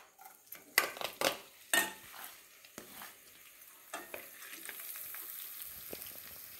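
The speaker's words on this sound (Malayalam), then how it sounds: "ഇനി ഇതേ പാനിൽ ഞാൻ വെളിച്ചെണ്ണ ഒഴിച്ചു കൊടുക്കുകയാണ്. കുറച്ച് വെളിച്ചെണ്ണ മതി, 1 സ്പൂണ് മതി. അതിലേക്ക് ഇഞ്ചി ഇട്ട് കൊടുക്കുകയാണ്." Ginger frying in a spoonful of coconut oil in a pan, with several sharp clinks of a spoon against the pan early on, then a steady soft sizzle that continues with occasional scrapes.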